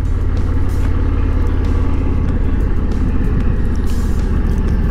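An Indian Challenger motorcycle idles with stock pipes and its catalytic converter deleted, a loud, steady, close exhaust rumble that holds dense and even throughout.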